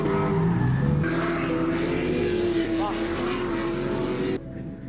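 A drift car's engine revs loudly and holds a high, strained pitch while the car stays still, then drops back; a voice talks briefly underneath.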